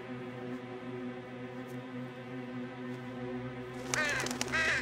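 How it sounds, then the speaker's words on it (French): A crow-like bird caws a few times, loud and close, near the end of an animated children's firefighter cartoon, after a steady bed of background music and hum. "Oh, c'est un oiseau."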